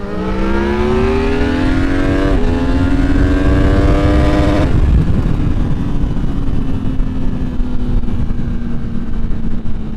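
A 2023 Yamaha MT-10 motorcycle with a Moore Mafia ECU flash accelerates hard, its loud engine howl climbing in pitch through two quick gear shifts before settling into a steady high drone, close and with no talk.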